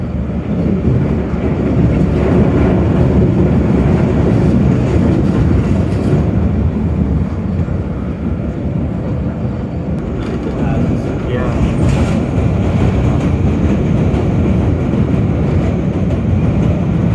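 A PATH train speeds along the rails, heard from inside as a loud, continuous roaring rumble with rattling and clatter that holds steady for the whole stretch, with no pauses.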